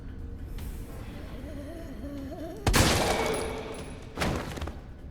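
Gunfire in a video game, with two sharp bursts of shots ringing out a second or so apart against a low background hum, the first louder and longer than the second.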